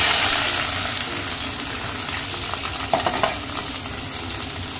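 Chopped onion for a crab gravy sizzles and fries in hot oil, a constant close crackle with a few stirring scrapes near the end and no voices.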